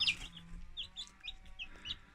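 Incubator-hatched chickens cluck and peep in a coop, with several short, high calls scattered over a low, quiet rumble and no voices.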